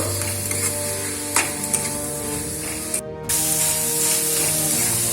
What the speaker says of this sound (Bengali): এভাবে নেড়েই যাব যতক্ষণ পর্যন্ত এটা ভাজা ভাজা হবে না